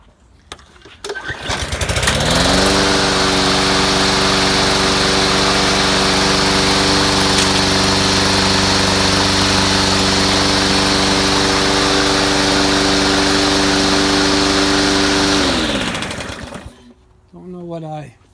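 A Craftsman or MTD lawn tractor engine cranks, catches and runs at a loud steady drone for about thirteen seconds, then winds down and cuts off.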